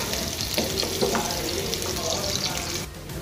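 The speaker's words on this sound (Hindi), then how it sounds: "प्याज हल्की सी फ्राई हो जाएगी" Onion frying in mustard oil with cumin gives a steady, moderately loud sizzle with a watery, bubbling texture, easing slightly near the end.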